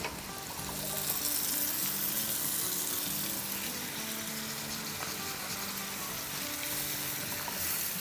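Large chunks of tomato, over a kilogram, sizzle and fry steadily in a pan for butter chicken, a continuous close hiss with no talking.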